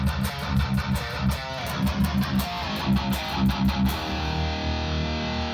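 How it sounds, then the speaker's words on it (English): Heavy electric guitar tone through a classic super overdrive pedal: thick, saturated chugging riffs with rhythmic palm-muted bursts, loud and dense, ringing out into a sustained distorted chord at the end. "I just add the classic super overdrive"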